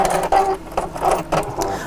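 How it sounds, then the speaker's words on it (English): A sewing machine runs a zigzag stitch over two fabric pieces being joined, with no thread in the bobbin, in short bursts of whirring separated by brief pauses, close and fairly loud. "go to a zigzag stitch and just sew over the top"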